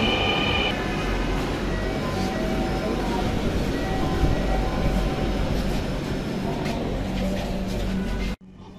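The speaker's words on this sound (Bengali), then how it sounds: "প্রিয় দর্শক, আমরা মেট্রো রেলে চড়তে পারছি," A Dhaka MRT Line 6 metro train carrying morning commuters rumbles loud and steady from start to end, with faint wheel squeal and rattling throughout, then cuts off abruptly near the end.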